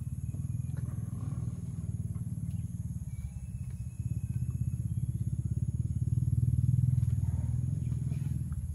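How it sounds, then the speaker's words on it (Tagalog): A low, steady engine rumble drones throughout, rising slightly toward the end, like motorcycles roaring somewhere far off. "Yun na naman yung mga buro-buro na motor na kahit naman sobrang malayo marinig natin."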